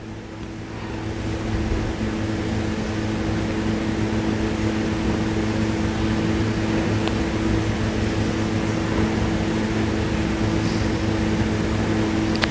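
An electric sewing machine runs stitches around a blouse neckline, joining the lining and fabric, giving a steady, unbroken motor hum that holds evenly for the whole stretch with no voices.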